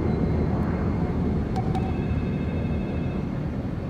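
A steady, loud airplane engine drone heard from inside the cabin in the video game Splinter Cell Blacklist, with a constant low roar and a few faint tonal blips and no speech.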